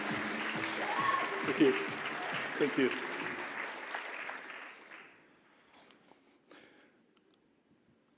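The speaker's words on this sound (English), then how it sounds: "So please put a big round of applause together for Mersin" Audience at a university startup showcase applauding the final pitch speaker, a founder, with a steady round of clapping that fades out after about five seconds, while a voice says thanks over it.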